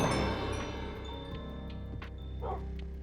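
Ethereal wolf dog in the StoneBlock video game barking a few times in quick, short yips over a steady background hum, moderately loud and close.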